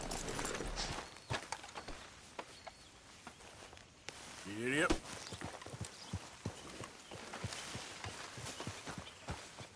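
Horse hooves clip-clop at a steady walk in Red Dead Redemption 2 while people talk and exclaim over them, with ambient outdoor game sounds underneath.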